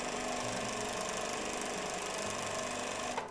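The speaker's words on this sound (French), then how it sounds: "Donc là, je couds bien mon élastique et mon tissu en même temps." A Kansai Special chain-stitch sewing machine runs continuously, sewing elastic onto fabric with a steady fast mechanical whir and fine rapid stitching rattle, close and even, ending with a small knock.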